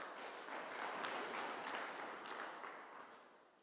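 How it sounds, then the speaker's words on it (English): Applause from the audience at a regional ICT stakeholders' meeting, a soft, fairly distant patter of many hands that holds steady and then fades toward the end, with no talk. "Let's give a hand of applause again."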